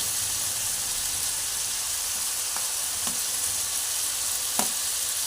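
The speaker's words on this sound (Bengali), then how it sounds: "এবারে আলুগুলো দেবো এর মধ্যে, তেলের মধ্যে, মশলার মধ্যে আলুগুলো দিয়ে দেবো।" Potatoes frying in hot oil with spices, giving a steady, close sizzle throughout with a few soft stirring clicks and no talk.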